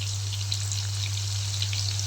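Onion fries in hot oil in a home kitchen, giving a steady faint sizzle and crackle with a low constant hum beneath, with no talking.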